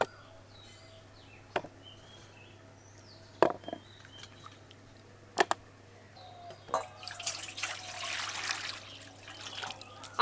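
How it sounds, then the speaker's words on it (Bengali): Elephant foot yam (maan kochu) being rubbed and rinsed in water, with a few sharp splashes and handling knocks spread over the clip and a steadier trickle and slosh of water toward the end, close and fairly quiet. "আবারও জল দিয়ে আমি কচুগুলোকে খুব ভালোভাবে ধুয়ে নেব।"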